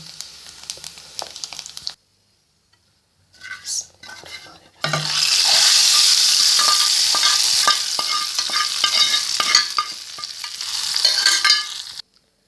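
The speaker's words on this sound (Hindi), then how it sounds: "तड़का चला जाएगा दाल में।" Quiet clinks of utensils, then a sudden loud sizzle as hot cumin tempering hits moong dal, hissing steadily with occasional spoon scrapes before fading out.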